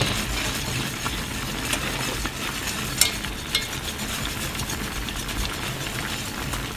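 A creamed spinach mixture is stirred in a pan, giving steady soft scraping and faint sizzling with a few sharper clinks of the utensil.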